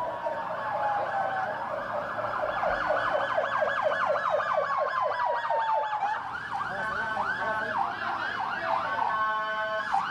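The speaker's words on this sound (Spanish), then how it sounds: "justo en estos momentos se acercan las ambulancias" Ambulance sirens approaching from the San Pedro Ayampuc road toward Hospital General San Juan de Dios: loud, continuous wailing sirens, several overlapping and sweeping up and down, over a low hum of road traffic.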